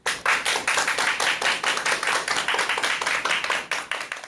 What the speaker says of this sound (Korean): 오늘 강연 큰 박수로 청해 듣도록 하겠습니다. 여러분, 큰 박수 부탁드립니다.